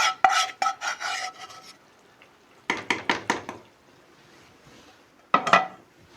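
A spoon scrapes and stirs masala in a pressure cooker for egg biryani, in three bursts of rhythmic close scraping strokes separated by quiet pauses.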